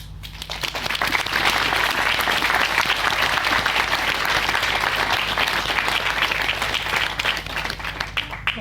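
Wedding guests at a reception break into loud, sustained applause after a best man's speech, dense crowd clapping filling the room steadily over a low background hum.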